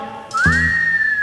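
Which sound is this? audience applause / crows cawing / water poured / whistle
whistle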